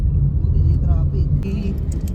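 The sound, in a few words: road traffic, car engine passing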